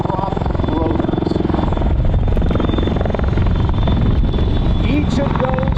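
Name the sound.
MV-22 Osprey tilt rotor aircraft prop rotors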